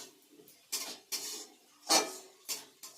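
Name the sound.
stirring and sautéing spice masala in a pot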